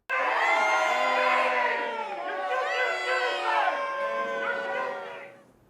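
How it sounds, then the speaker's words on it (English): Students shouting and booing in protest at a university board meeting, a loud, sustained crowd roar of many raised voices that swells and then fades out over several seconds. "Students at the meeting shouted in protest."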